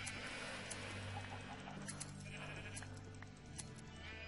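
Minecraft sheep bleat during in-game shearing, their short nasal calls repeating over a steady game backdrop with faint clicks and pops. The overall level is quiet and nobody speaks.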